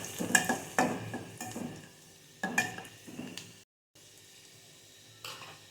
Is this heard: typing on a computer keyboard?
no